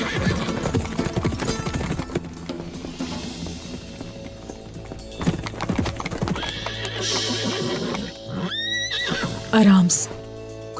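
Horses gallop with rapid clip-clopping hooves and then let out loud, shrill neighs near the end, in a dramatic scene from the Turkish historical drama Kurulus Osman, with shouting voices and music over the action.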